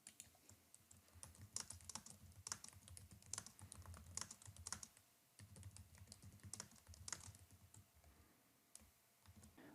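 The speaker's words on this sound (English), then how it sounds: "When you are done typing your notes" Steady typing on a computer keyboard while entering quilt design notes in quilting software, a continuous run of close, fairly quiet key clicks with brief pauses, no voices.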